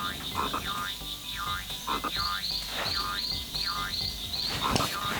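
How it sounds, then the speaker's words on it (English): Frogs croak in a rhythmic, repeating series of chirping calls at moderate distance, with a steady hum of insects and outdoor ambience underneath and a faint voice in the background. "I can hear the frog sounds too."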